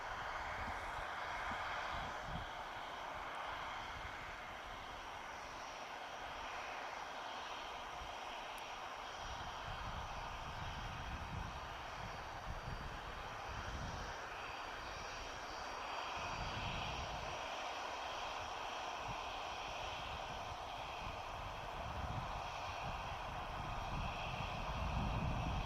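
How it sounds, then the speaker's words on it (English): Aircraft landing at Manchester Airport, a steady moderate jet engine drone with low rumbling and a whining tone, continuous and fairly distant throughout. "Erlinger's just about to touch down."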